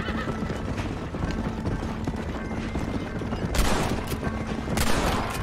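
Horses in Red Dead Redemption gallop with steady clip-clop hooves and a loud neigh, with a burst of gunfire-like bangs near the end, all fairly loud and continuous.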